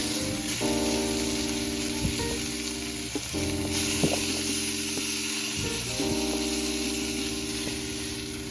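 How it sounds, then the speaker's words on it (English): Sous vide steak searing in a hot pan gives a steady, loud sizzle and crackle with a few knocks of the pan, continuous throughout with no talking. "Don't forget to get a good sear on the edges either."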